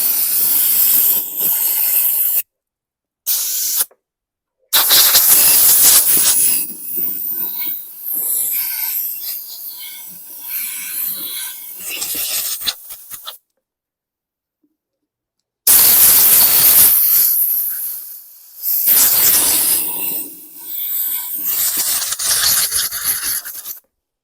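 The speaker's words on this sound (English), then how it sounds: "So I'm going to blast off the tank with some compressed air, just get the tank cleaned out." Compressed air blasting out a lawn mower fuel tank during a clean-out, loud broadband hissing in several long bursts separated by brief silences.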